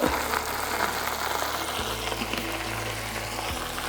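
Chinese-style sauce of soy sauce and vinegar frying in a pan, a continuous loud sizzle with a low steady hum from a stove or burner underneath.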